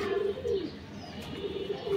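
Pigeons in a loft give soft, repeated coos, several low throaty calls in a loose rhythm over quiet background noise.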